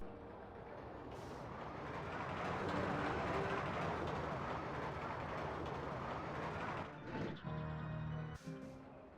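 A mine train roller coaster in a video game rumbles through its test ride, a steady rolling clatter that swells and then ends in a few sharp clanks and squeals near the end.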